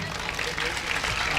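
Applause from the audience at a mushaira poetry gathering in Mumbai, a dense, steady wash of many hands clapping that fills the whole moment without pause.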